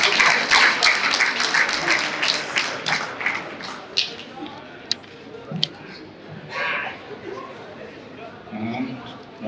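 An award-ceremony audience applauds loudly, dense clapping that fades after a few seconds into scattered claps, taps and crowd murmur with voices talking.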